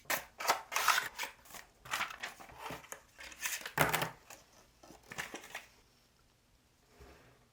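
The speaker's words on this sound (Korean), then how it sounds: "플립을 옆에 두고 케이스 언박싱 해보겠습니다." Samsung phone case package being unboxed, a series of close crinkling, tearing and rustling handling sounds in irregular bursts that fade to quiet at the end.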